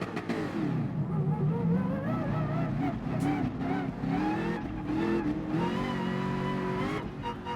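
A Lamborghini race car in GT Sport howls through rising and falling revs, loud and close, with a voice talking over it.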